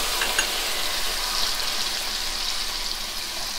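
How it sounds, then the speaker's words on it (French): Bananas stirred in butter-sugar caramel with rum in a pan, a soft, even bubbling sizzle with light stirring, fairly quiet and without speech. "on continue à mélanger nos bananes dans le caramel comme ceci"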